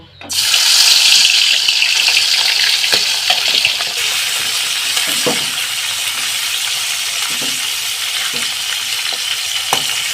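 A catla fish head coated in salt, turmeric and chili drops into hot oil with a loud, bright hiss that stays strong and steady for several seconds, while faint clinks and short knocks sound beneath it.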